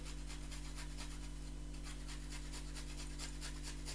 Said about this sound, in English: So we're gonna grate the ginger.